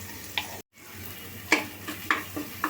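Homemade spice masala with cinnamon and shahi jeera is stirred in a hot pan, a low sizzle with a few distinct spatula scrapes and taps spaced through the clip and a short silent gap near the start.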